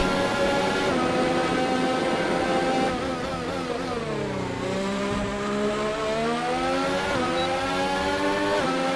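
Formula 1 car engine in the F1 2019 racing game at the Austria circuit, a loud, steady high-revving whine that climbs and dips through gear changes and corners, heard alone without talk.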